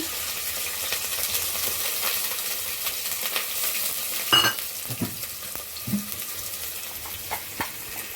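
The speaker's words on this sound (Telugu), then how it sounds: "ఇప్పుడైతే ఆనియన్స్ వేసుకుంటున్నాను." Onions going into hot oil in a pan for a paya curry, giving a steady broadband sizzle with a few clinks and stirring bumps around the middle. No one speaks.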